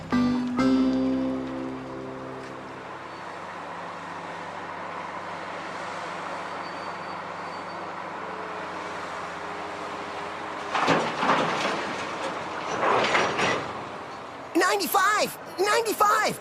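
A train on a mountain railroad moves along the track with a low, continuous rumble, joined later by metallic clanks and squeals, while people talk over it.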